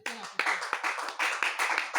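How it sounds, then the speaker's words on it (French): Church congregation claps at an apostolic service, a quick run of uneven, closely spaced claps with voices mixed in underneath. "Applaudis pour le Seigneur."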